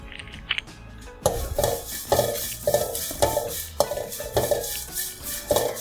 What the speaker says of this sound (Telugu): ఇది ఇంకొంచెం ఫ్రై అవ్వాలి.